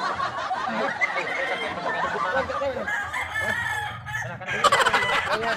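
A rooster crows loudly over a busy background of clucking fowl, with a second sharp crow near the end.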